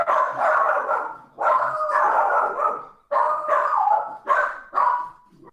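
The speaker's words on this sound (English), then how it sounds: "that's the sound of a small Jack Russell and a Dachshund Border Collie mix shouting at a stranger" A small Jack Russell and a Dachshund Border Collie mix bark at a stranger in loud, close bursts of overlapping yapping, separated by short pauses.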